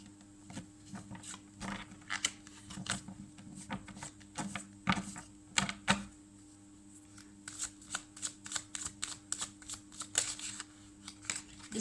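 A deck of tarot cards is shuffled by hand, close and quiet, in repeated riffling bursts and soft flicking patters with short pauses between.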